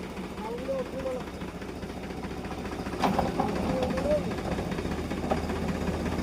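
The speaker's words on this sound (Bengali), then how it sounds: "এই যে দেখেন দর্শক রোটার ঘুরতেছে" A second-hand Powertrac EURO 50 tractor with its rotor spinning gives a steady, fairly loud mechanical drone with a low engine hum, and voices talk over it throughout.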